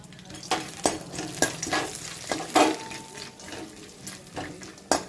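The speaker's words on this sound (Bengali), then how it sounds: "গরম ঘিতে যে ড্রাই ফ্রুটগুলো এগুলো আমি একটু হালকা করে ভেজে নিচ্ছি" Dry fruits frying lightly in hot melted ghee in a wok, with a steady soft sizzle broken by several sharp stirring scrapes and clatters at irregular intervals, close by, with no voices.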